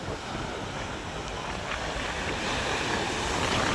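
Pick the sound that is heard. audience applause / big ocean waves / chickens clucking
big ocean waves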